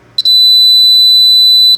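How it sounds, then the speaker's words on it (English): An electronic buzzer component gives one loud, steady, piercing high-pitched tone like a fire alarm, with a stuttered start and held for about a second and a half in a quiet room. "And then we have a more dedicated buzzer,"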